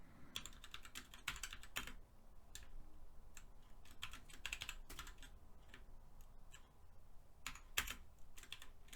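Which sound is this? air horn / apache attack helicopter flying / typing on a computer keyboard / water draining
typing on a computer keyboard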